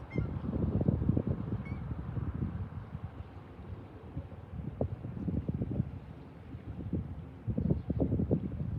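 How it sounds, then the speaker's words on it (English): Canada geese honking outdoors near a pond with chicks around, a flock giving repeated loud honks in bursts over steady wind noise, with no talk. "The Canadian geese have the chicks out there."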